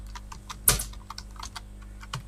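Keys clatter on a computer keyboard in a run of quick, irregular taps, one louder strike near the start, alone with a faint room hum beneath.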